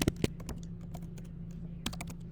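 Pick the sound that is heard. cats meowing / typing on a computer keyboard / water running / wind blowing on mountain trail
typing on a computer keyboard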